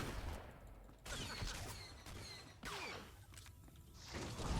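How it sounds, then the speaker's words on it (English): Star Wars: The Old Republic battle on Taris rattles with bursts of blaster gunfire and booming explosions, sharp volleys punctuated by heavy thumps and whining energy shots. "Explosions."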